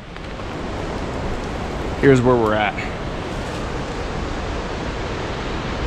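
Steady broadband rush of a mountain creek flowing, close and continuous throughout, with someone briefly talking over it midway.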